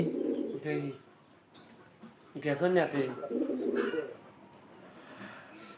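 Pigeons coo in bursts, with soft throaty calls rising and falling across a few seconds, close by and moderately loud over faint background noise.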